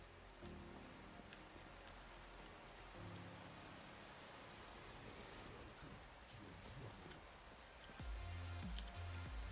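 Steady rain falls in the Minecraft game world, a dense wash of patter with a low rumble like distant thunder underneath, while soft game tones play alongside it.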